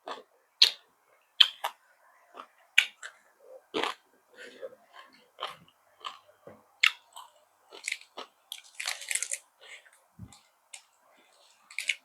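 Crunchy fresh vegetables eaten alongside blanched black tiger prawns and dipping sauce, bitten and chewed in a string of close, crisp crunches with short pauses between bites.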